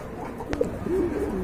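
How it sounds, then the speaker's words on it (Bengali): A Bombay pigeon gives a short, soft coo close by, preceded by a brief sharp tap, with faint background noise and no talking. "আরেক জোড়া বোম্বাই কবুতর দেখতে পাচ্ছেন"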